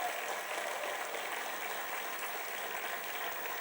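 Audience at a stand-up comedy show applauding, a steady dense wash of clapping that holds evenly throughout without any voices over it.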